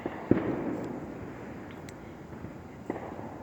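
Neighborhood fireworks for the Fourth of July in New Hampshire crackle and pop at a distance, with a sharp nearer bang early on and scattered fainter bursts over a low background rumble.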